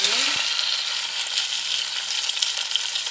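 Chicken pieces dropped into a hot pan with onions, a steady hissing sizzle of frying oil that stays loud and even throughout, with a brief clatter at the start.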